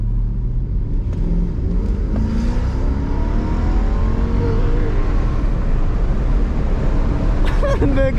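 A car engine with straight-pipe exhaust drones and rises in pitch as it revs, heavy low rumble and wind noise covering much of it, with a sharper rev near the end.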